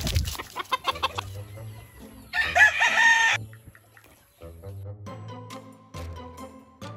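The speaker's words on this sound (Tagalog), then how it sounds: "ang dami talagang chickens" Chickens cluck and a rooster crows on a farm in the Philippines, with sharp clucks at the start, one loud nearby crow in the middle, then more scattered clucking to the end.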